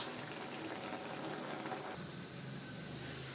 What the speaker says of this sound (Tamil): முட்டைக்கோஸும் சீக்கிரம் வெந்துடும், சிறுபருப்பும் சீக்கிரம் வெந்துடும்.